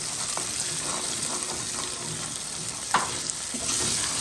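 Food fries in a pan and gets stirred, with a steady close sizzle and occasional scraping stir strokes rising briefly above the hiss.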